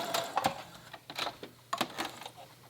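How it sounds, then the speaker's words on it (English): A sewing machine back stitching a pleat on a woven blouse, heard as short bursts of rapid mechanical ticking separated by brief pauses, close and moderately loud. "I'm going to back stitch and then go all the way to the front and back stitch again"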